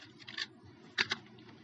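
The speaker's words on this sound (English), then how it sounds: "Again, type ipconfig and" Two short bursts of keystrokes on a computer keyboard as the ipconfig command is entered, quiet and close, with a brief pause between the bursts.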